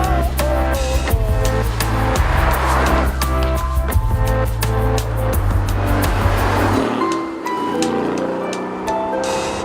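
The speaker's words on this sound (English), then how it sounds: "So the new Aston Martin Vantage, still can't believe I'm actually driving this." A 2018 Aston Martin Vantage driving, its engine giving a loud, steady low drone with rhythmic pulses that drops away sharply near the end.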